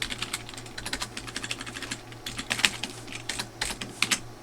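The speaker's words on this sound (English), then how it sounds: "I'm going to type in a div container" Close, steady typing on a computer keyboard as web template code is entered, with rapid clicking keystrokes and a few sharper clacks, over a faint low hum and no speech.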